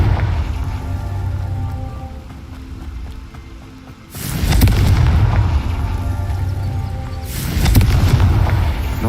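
Two heavy explosive blasts from a Confringo fire spell, each a sudden loud boom followed by a long crackling, rumbling decay; the first lands midway and the second near the end, over a lower ambient rumble.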